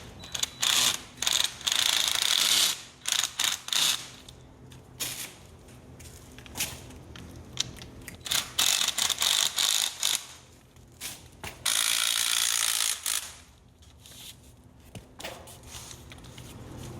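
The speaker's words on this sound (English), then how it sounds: "go back with your impact or ratchet and tighten them up" Ratchet or impact tool tightening bolts while assembling a walkthrough ornament, heard as repeated rapid clicking bursts in short loud runs separated by quieter gaps, with no talking.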